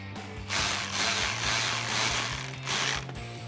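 A ratchet drives a T15 Torx bit while installing an S&B cold air intake on a 2019-2022 Silverado or Sierra 1500 with the 5.3L engine, giving several bursts of rapid clicking close up with no talk.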